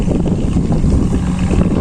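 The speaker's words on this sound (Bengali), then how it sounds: "পাশেই আছে একটা মাছ ধরার ট্রলার" A fishing trawler near a ferry terminal on open water, heard as a steady low engine-like rumble mixed with heavy wind buffeting, continuous and close for under two seconds.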